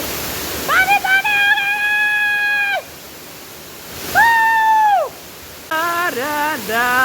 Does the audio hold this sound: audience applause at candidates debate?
no